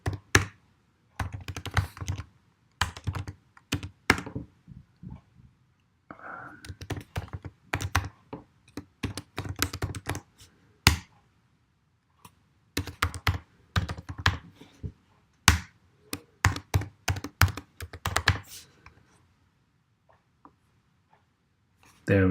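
Computer keyboard typing git commands in bursts of quick, close key clatter broken by short pauses, with a voice talking over parts of it.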